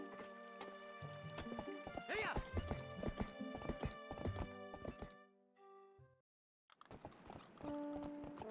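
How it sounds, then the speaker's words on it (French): Galloping horse hooves and a whinny from the video game The Legend of Zelda: Twilight Princess, clip-clopping under game music, with a short break in the middle before the sound picks up again. "Vas-y, à cheval, ça ira plus vite."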